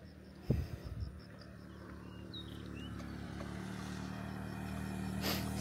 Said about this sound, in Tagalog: Pero syempre, tayo maririnig mo dito yung mga dumadaang sasakyan. Motor like this one.